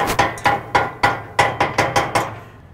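An Argentine grill's cooking grate is cranked upward by an 18-inch wheel, producing a series of evenly spaced sharp metallic clanks that ring briefly and decay. They are loud and close, about eight in a row, with no voices.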